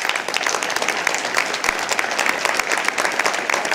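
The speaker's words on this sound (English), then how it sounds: "I think they should get a round of applause right now." Audience applause at a food-system panel event, a dense steady patter of many hands clapping at close range for the full stretch, with no talk over it.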